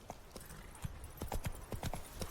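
Horse Roach gallops in The Witcher 3 game, hooves clip-clopping in a quick, steady rhythm, close and clear over a faint background.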